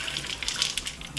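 Tap water runs steadily while soaked peas and beans are strained for a vegan soup, a close, continuous splashing rush.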